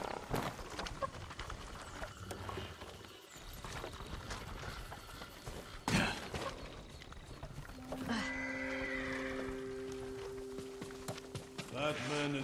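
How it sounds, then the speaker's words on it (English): Horses neigh and whinny with hoofbeats in the samurai video game Ghost of Tsushima, heard among game sound effects and background music, with a long drawn-out whinny near the end. "Follow those horses."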